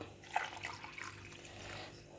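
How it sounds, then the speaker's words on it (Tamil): Water is poured into a mixer jar of dry-ground coconut for coconut milk rice, a soft trickling splash that is faint and brief, with quiet room noise around it. "இப்போ தண்ணி ஊற்றி அரைக்கலாம்."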